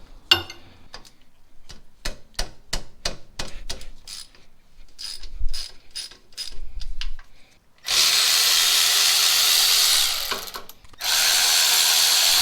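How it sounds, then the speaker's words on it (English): Electric ratchet loosening rear differential cover bolts on a 2015 Ram pickup: a run of sharp, rhythmic mechanical clicks, then a loud, steady high-pitched motor whir that stops briefly and starts again, close up with no talking. "then I'll use my electric ratchet just to kind of make it faster"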